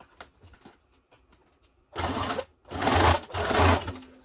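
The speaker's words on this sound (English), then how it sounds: "A few reinforcement stitches right there." A sewing machine stitches reinforcement stitches over a cushion zipper on scrap fabric: three short, close bursts of rapid mechanical whirring after faint ticking and handling noises.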